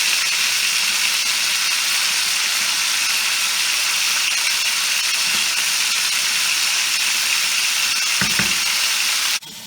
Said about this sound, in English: my noodles, they're still over here boiling